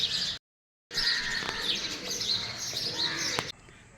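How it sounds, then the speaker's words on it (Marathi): Steady, busy chirping of many sparrows fills the air at a temple, a dense outdoor chorus broken by a brief silence near the start. "गेले कित्येक वर्षामध्ये मी चिमण्यांचा चिवचिवाट ऐकला नव्हता आज तो मी ऐकतोय"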